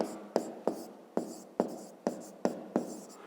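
Pen on paper while writing out a fifth-grade math exercise: a rhythmic series of close scratchy strokes, each starting with a sharp tap and fading, about eight strokes with no voice over them.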